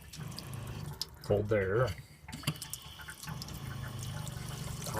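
Water runs steadily from a repaired faucet with new O-rings and grommets in a Winnebago F-17 camper, a soft continuous hiss under a man's brief speech.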